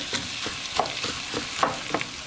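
Corn chowder with potatoes stirred in a pot over medium heat, a soft spoon scraping and faint simmering sizzle repeating in slow, even strokes, close and quiet with no talking.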